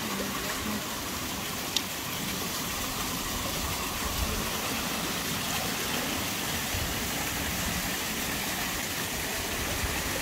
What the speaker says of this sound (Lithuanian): Kriokliai bėga